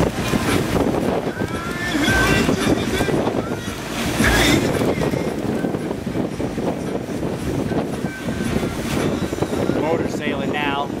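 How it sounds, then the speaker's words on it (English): A sailboat motors along the Intracoastal Waterway near Cape Canaveral at about 7 miles an hour, giving a steady engine drone under constant wind buffeting and water wash, with a person talking over it throughout. "Motor's sailing now, doing about 7 miles an hour."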